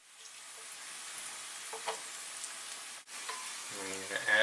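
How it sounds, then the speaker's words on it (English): Sweet potato frying in a pan gives a steady, soft sizzle close by, with a few small pops and a brief interruption as it is flipped, then a brighter clatter near the end. "Flip the sweet potato after about a minute so it gets nice and brown on one side."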